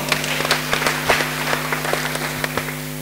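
A church congregation in Nairobi claps together in praise, loud and rhythmic hand claps from many people over a steady sustained musical drone, continuing without pause.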